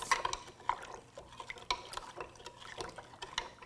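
Pickling salt being stirred into water with a utensil to dissolve it, producing light intermittent clinks and scrapes against the container, fairly quiet and close.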